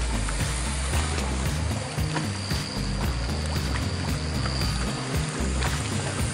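A 24 m Vietnamese fishing boat under way at sea, with a loud, steady engine drone and rushing water that run continuously, with no talk.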